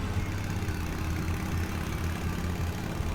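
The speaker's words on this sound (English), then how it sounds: "you notice the motorcycle engine sound with the screaming?" Motorcycle engine in the horror game The Path, a steady low droning rumble holding at an even level throughout, with no talk and no screaming evident.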